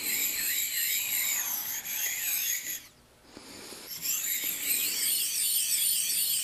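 Precision ground flat sharpening stones are rubbed together on their coarse sides, giving a close, rough, rhythmic back-and-forth grinding that pauses briefly midway before resuming.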